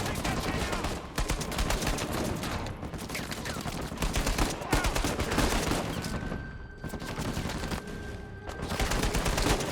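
Sustained heavy gunfire in Uncharted 4, loud and dense throughout, with rapid automatic bursts and brief gaps between volleys.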